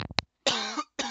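A man coughs several times in quick succession: a short burst of sharp, close coughs, a pause, then a longer harsh cough and the start of another.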